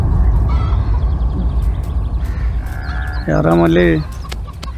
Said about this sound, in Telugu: రే మన పుంజు దొరికేసిందిరా